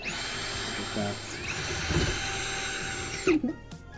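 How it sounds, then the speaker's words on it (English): A power drill drilling holes in a bathroom floor whirs continuously at a high pitch, briefly dipping mid-run, then stops with a few clunks near the end. "So I'm gonna start drilling in these holes."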